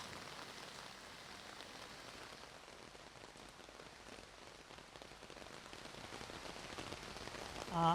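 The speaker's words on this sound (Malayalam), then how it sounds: "ഇപ്പോൾ വീണ്ടും ശക്തിയായി തന്നെ മഴ പെയ്യുകയാണ്" Continuous dense monsoon rain in Kerala hissing on surfaces, a steady even downpour with no voices, faint overall.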